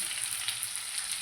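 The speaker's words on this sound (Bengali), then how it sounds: "হালকা করে একটু ভাজি, বেশি কড়া করে ভাজলে শক্ত হয়ে যাবে" Fish fry lightly in hot oil in a wok, giving a steady, close, even sizzle with a faint bubbling hiss and no voices.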